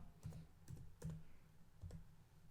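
Ipconfig command typed on a computer keyboard in a Windows networking demo, heard as four or five quick soft key clicks spread over a couple of seconds, faint and close, with no talk.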